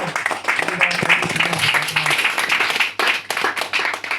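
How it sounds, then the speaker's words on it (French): A congregation claps hands together in a dense, steady burst of applause at a church service, with voices mixed in underneath. "Nous pouvons donner des mains d'acclamation au Seigneur."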